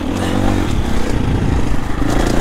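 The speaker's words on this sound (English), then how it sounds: "I'm on a four-stroke, a 350 Husky on the Jarvis Signature Tour" Husqvarna 350 four-stroke motorcycle ridden on a trail tour in Wales, a loud steady close engine drone with slight revving and clatter, no voices.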